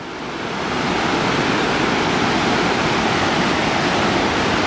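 Triple Falls on the Little River in Cedar Mountain, North Carolina, roars after abnormally high rainfall, a loud, steady wash of falling water close by with no voices over it.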